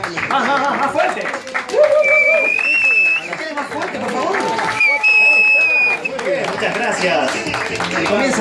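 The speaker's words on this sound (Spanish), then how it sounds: "Y los aplausos de la gente cuando comienza el show" Crowd applause and clapping with cheering at the start of a show at a fifth birthday party, a continuous loud burst of hands and voices with music-like tones mixed in throughout.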